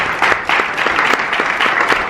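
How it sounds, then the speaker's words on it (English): Loud, sustained applause from a press conference crowd greeting the Maleficent: Mistress of Evil cast in the UK, many hands clapping steadily and close, without a break. "Please give them a round of applause."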